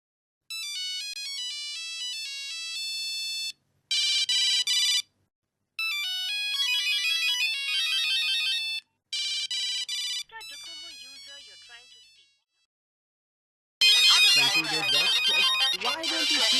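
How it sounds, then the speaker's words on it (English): An electronic phone ringtone plays in repeated melodic bursts with short pauses between them, clear and fairly close, ending in a louder, busier burst. "the phone may be ringing"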